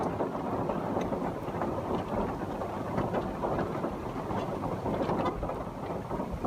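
Steady heavy rain falling in a forest, a dense continuous hiss and patter with a low rumble underneath, loud and unbroken throughout, with no voices.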